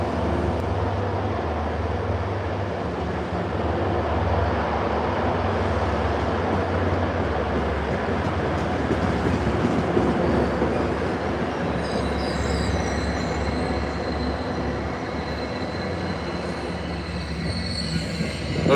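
A Forge Park commuter train rolls through Forest Hills station, its wheels squealing loudly over a continuous rumble and clatter of railcars for the whole stretch, with no one speaking.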